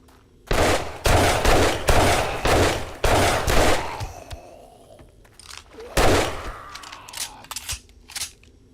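Rapid volleys of .44 Magnum gunfire in the 7 Days To Die video game, five loud sharp shots in quick succession, then a pause, then another burst of closely spaced shots with fading reverberant tails.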